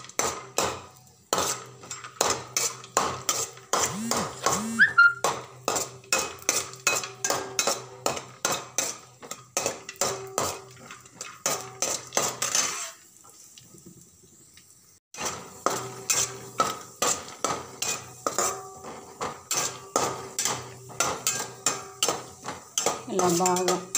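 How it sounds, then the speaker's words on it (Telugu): Spatula knocking and scraping rapidly in a pan while frying cashews and raisins, a dense rhythmic clatter of metal strokes with a brief pause, close and loud. "ముందుగా గోడంబి, ఈ ద్రాక్ష రెండు వేయించుకుందాం."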